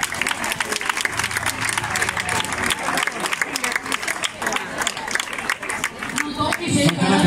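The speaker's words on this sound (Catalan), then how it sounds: "Un aplaudiment." A crowd at a country music festival applauds, with dense clapping and some cheering close by while voices talk over it, building louder toward the end.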